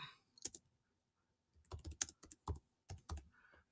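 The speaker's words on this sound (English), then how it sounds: "I'm gonna touch and type. Touch and type. Touch and type." Fingers type a note on a Chromebook touchscreen keyboard. Quiet clusters of light taps come in short bursts separated by a pause.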